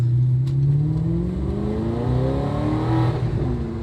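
A supercar engine with an automatic transmission revs hard, a loud close roar climbing steadily in pitch over a few seconds, with no speech.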